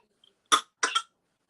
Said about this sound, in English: He gets into where he'll fake cough sometimes.